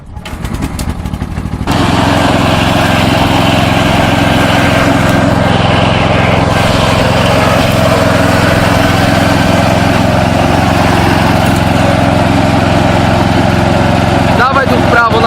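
A tractor engine runs steadily and loudly close by, holding a constant drone after a brief softer start, with a few faint sounds near the end.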